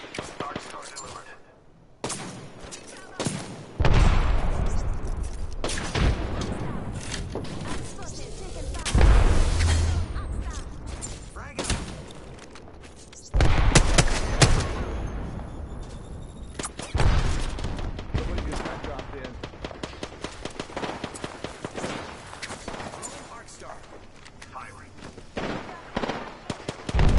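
Gunfire from an R301 rifle in the Apex Legends video game: repeated loud bursts and single shots spread across the scene, mixed with game voices and other combat noise.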